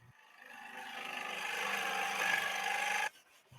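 Loud, steady rasping cut through a radiator fan shroud along a scribed line for the fan opening, one continuous stroke that swells and then stops abruptly, close by with no talk.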